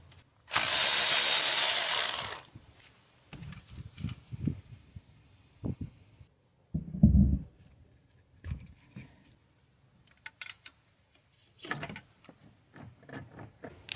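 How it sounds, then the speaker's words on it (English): A tool works on a 10mm bolt on a 2015 Toyota Sienna engine during a water pump job: one loud burst of power-tool whir, then scattered clanks, ratchet clicks and knocks in a quiet garage. "right now I'm gonna be taking this 10mm bolt off"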